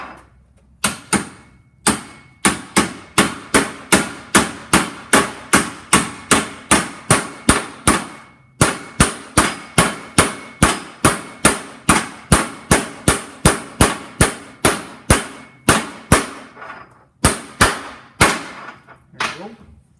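A bearing race for the output shaft is hammered into the front bearing retainer of a Land Cruiser transfer case. Dozens of sharp, ringing metal blows land in a fast, steady rhythm, broken by a few brief pauses.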